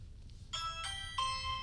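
A Ring video doorbell plays its chime, a clean electronic two-tone ding-dong with bright ringing tones that sustain, heard alone and fairly clear.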